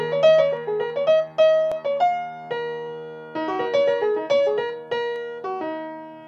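Solo jazz piano plays a bright modal melody, with clear separate notes moving in steps and leaps over sustained low chords, close and clean with no talking.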